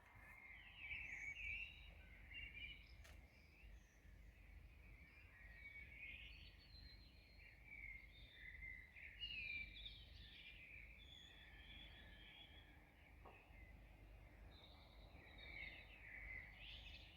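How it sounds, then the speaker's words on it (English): A Eurasian blackbird sings before dawn in early May in the UK, its fluting phrases faint and distant over a quiet background, repeating at intervals with other small chirps around it. "That's a Eurasian blackbird, a blackbird here in the UK."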